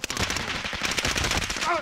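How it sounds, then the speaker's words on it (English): Rapid automatic gunfire from a first-person shooter video game, dense and continuous bursts filling the whole stretch, loud and close, with a brief electronic tone at the end. "They're shooting from where I am."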